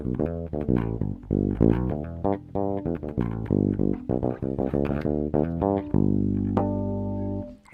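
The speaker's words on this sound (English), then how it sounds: "this is what the bridge pickup sounds like" A Yamaha BB604 active bass guitar on its bridge pickup plays a busy line of picked notes, ending on a sustained ringing note, heard up close and alone without voices.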